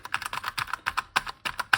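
Keys clatter on a freshly cleaned, refurbished keyboard of a Partner 01.01 computer, a quick irregular run of crisp clicks close up, each press distinct, with no talking.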